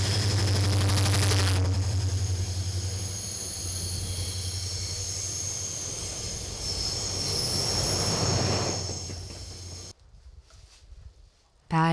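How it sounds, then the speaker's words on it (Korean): A train rolls slowly along the Gyeongjeon railway line in South Korea, a loud continuous rumble of wheels and carriages with high squealing wheel tones. The sound drops away abruptly near the end. "굽이굽이 굽이진 마을을 지날 때면 열차는 걸음이 조금 더디다."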